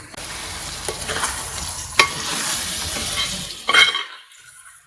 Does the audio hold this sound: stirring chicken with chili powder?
yes